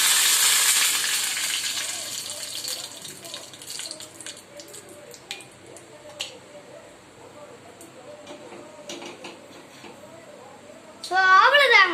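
Curry leaves dropped into hot oil for tempering a white chutney crackle and sizzle loudly up close at first, then settle into softer frying under a voice talking, with a burst of spluttering near the end.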